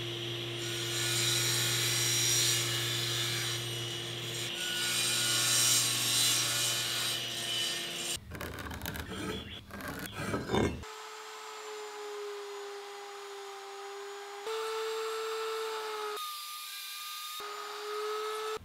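Wooden bench armrests are cut at a table saw, first a loud, steady humming whine with the blade running, then a rough, grating cut, then the motor winding down and tones that fall away in stages.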